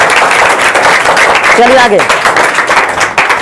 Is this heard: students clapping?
yes